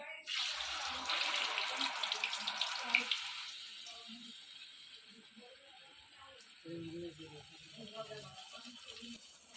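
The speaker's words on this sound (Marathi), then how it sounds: "इथं काकी आता बघा वडा सोडते" A vada is dropped into hot oil over a wood-fired stove, giving a bright burst of sizzling that gradually fades to softer bubbling while voices speak nearby.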